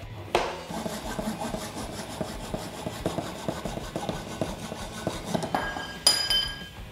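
Hacksaw strokes cutting through an aluminum tube, a steady series of rasping back-and-forth cuts with small metallic clinks, close and fairly loud, ending with a brief sharp ringing clatter.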